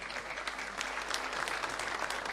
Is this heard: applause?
yes